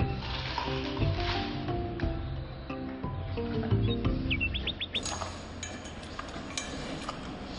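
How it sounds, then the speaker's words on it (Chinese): Birds call near a giant panda's enclosure, a quick run of high chirps rising over the crunch and chewing of bamboo, with louder crackling bites continuing after the calls fade. "鸟叫"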